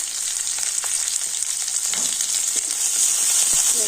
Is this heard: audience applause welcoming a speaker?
no